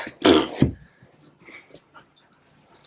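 A dog barks twice in quick succession, loud and close, after a delivery arrives, followed by faint whimpering and shuffling in a quiet room.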